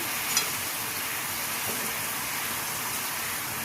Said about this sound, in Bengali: এবার আমি ঝোলের মধ্যে মাছগুলো দিয়ে দিচ্ছি।